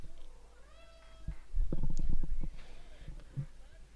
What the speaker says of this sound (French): Il vient de miauler.